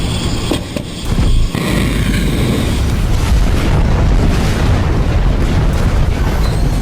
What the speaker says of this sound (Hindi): तेल अवीव का आसमान भी मिसाइलों के धमाके से गूंजने लगा